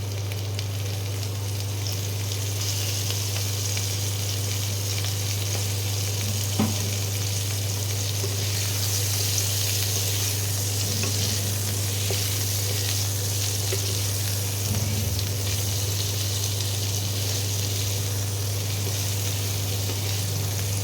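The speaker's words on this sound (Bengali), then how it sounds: "ফুলকপিগুলো একটু ভেজে নিই।" Cauliflower florets dusted with turmeric fry in a pan, giving a steady, close hiss of oil over a constant low hum, with an occasional faint clink; no voices are heard.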